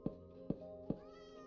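A cat meows three times in Minecraft, evenly spaced short calls at close range, alone with no talk over them.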